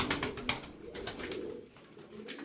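Several pigeons coo softly nearby in a bird enclosure, steady low rolling calls with faint wing flutters and no voices.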